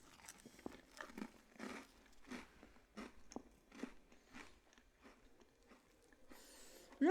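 Soft, close chewing of a gooey s'more, a series of wet, sticky bites and mouth sounds at low volume with no talking.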